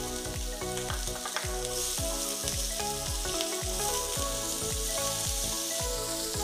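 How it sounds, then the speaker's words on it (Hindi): Onion hits hot oil in a pan for a karonda chilli pickle, giving a steady, close, hissing sizzle with rhythmic stirring scrapes underneath and no talking. "अब इसमें हम डाल देंगे ये जो हमारी प्याज है,"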